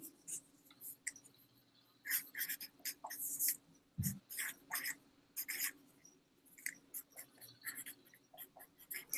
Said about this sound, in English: then you can either draw lines on a piece of paper